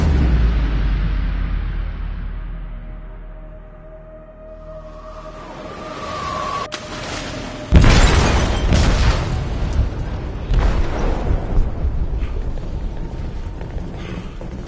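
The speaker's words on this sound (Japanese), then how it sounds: "貨物室で爆弾が爆発しました。" A bomb exploding in a ship's cargo hold in the Detroit video game: a low rumble and mechanical hum build up, then a sudden loud blast is followed by crashing, crackling debris and a sustained roar.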